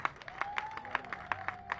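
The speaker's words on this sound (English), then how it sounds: "That's worth a round of applause." A crowd applauds at an Atlanta event honoring Usher, with scattered claps rising through a fairly quiet wash and a faint tonal sweep underneath.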